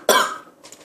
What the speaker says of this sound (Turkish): Kötü öksürüyorum.